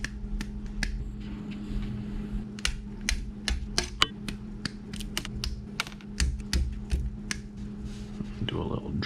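Sharp snips of cutters trimming Tamiya plastic model kit parts from the sprues for a 1/20 Williams FW11 Honda, repeated crisp clicks at an irregular pace over a low steady hum, close and fairly loud.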